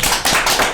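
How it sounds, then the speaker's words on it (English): Audience applause at a talk on abrupt climate change and imperialism, a brief, loud burst of clapping lasting under a second with rhythmic pulses and no talk. "let's give it a round of applause"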